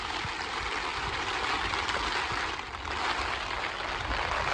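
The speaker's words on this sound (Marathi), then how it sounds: "वारा सुटलाय दोस्ताव फार म्हणजे फार जोरात" Strong wind gusts across Vihar Lake during a fishing outing, a loud, continuous rushing roar that dips briefly and then swells again.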